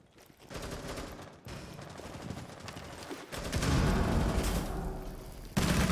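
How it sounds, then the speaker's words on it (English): Bursts of automatic gunfire in a Rainbow Six Siege college esports match, rapid fusillades running loud and continuous with brief gaps and a heavier burst near the end. "You have to be careful taking some gunfire"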